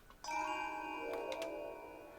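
Bright pinball machine bell sound effects ring out loudly with sustained tonal chimes layered over each other, a few sharper dings cutting in near the middle before the tones slowly fade.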